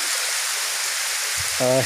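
Continuous rushing of Tobo Tobo Mini Falls in Matalom, Leyte, Philippines, a broad steady hiss of falling water, with a brief voice sounding near the end.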